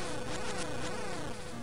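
A bee buzzes steadily in Zelda: Oracle of Ages on the Game Boy Color, a dense electronic drone that fills the whole moment without pause and with no voices over it.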